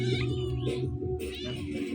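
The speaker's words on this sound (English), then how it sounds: "let's see if the orange cat comes up" An orange cat meows loudly and close by just before being fed, two drawn-out cries in succession with some household background.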